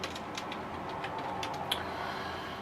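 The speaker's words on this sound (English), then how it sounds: "Type in Firefox." A computer keyboard is tapped with quick, scattered keystrokes during a Windows 10 install on an ASRock J5005-ITX board, the light clicks close and fairly quiet with no speech.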